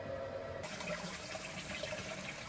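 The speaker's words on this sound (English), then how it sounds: "right now I got the water going through and from the utility tub" Water running steadily from a utility tub into a sump pump basin during a Zoeller M98 sump pump install, a continuous close splashing, gushing flow with no voices.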